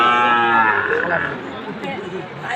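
Sahiwal bull calf at a busy cattle market, giving a loud, drawn-out moo up close that fades into a rougher, lower bellow, with faint crowd murmur around it.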